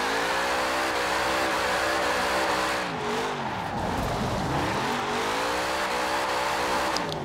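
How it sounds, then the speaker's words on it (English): A stock 1970 Chevrolet Chevelle SS V8 holds a steady loud roar while drifting in Forza Horizon 4, tires squealing continuously and revs dipping and climbing midway, with no talking. "Yep, that's a drift."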